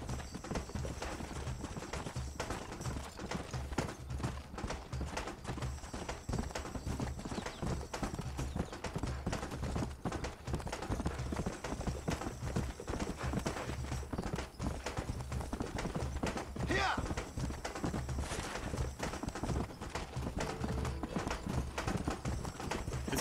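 Hooves of a horse galloping in the Red Dead Redemption video game, a steady rapid clip-clop running throughout under a constant game music and ambience bed.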